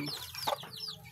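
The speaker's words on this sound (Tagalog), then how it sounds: "manok nga gagmay ang kuning diri lahat" Small chickens cluck and peep softly in a short, busy burst of chirpy calls, close by with faint background noise.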